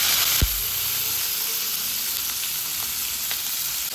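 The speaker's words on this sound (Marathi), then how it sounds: "चांगली परतवून घ्यायची." Bell peppers with cumin and curry leaves sautéing in a pan for a mixed vegetable bhaji, a steady close sizzle and frying hiss with a single clunk of the spoon near the start.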